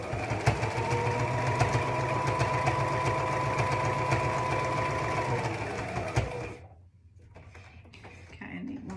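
A sewing machine stitches fabric for a child's hat in a loud, steady run for about six seconds, then stops abruptly, leaving quieter handling noises while a person talks throughout.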